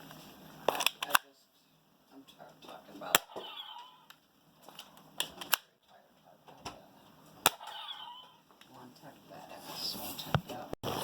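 A Star Wars toy shotgun/pistol firing, giving sharp plastic snaps and clicks heard close and loud at irregular intervals, with a voice talking between the shots.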